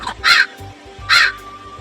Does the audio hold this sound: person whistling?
no